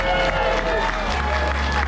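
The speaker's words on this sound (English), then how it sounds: "give a huge round of applause to our wonderful AV staff" A convention audience applauds the AV staff at a charity auction, sustained dense clapping and crowd noise filling the room throughout, loud and close.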